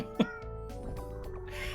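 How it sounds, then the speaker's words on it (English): Cartoonish cat meow from a puzzle video game: one short, bright meow near the start, with game music and effects continuing underneath. "This cat noise reminds me of the noise that Kid Clown makes in the video game The Bombing Islands."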